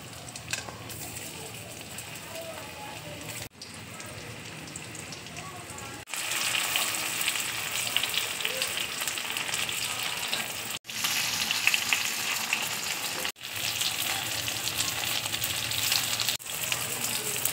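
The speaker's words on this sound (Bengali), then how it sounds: "এবার আমি পনিরগুলো এক এক" Paneer pieces frying one by one in hot oil in a kadai, a loud, steady sizzle that drops out briefly and returns louder as more pieces go in, with no talking over it.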